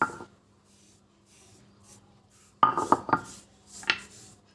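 Wet paste being scraped off a stone grinding slab, heard as a few short gritty scrapes and knocks, mostly in the second half, close and fairly soft with quiet stretches between, no talking.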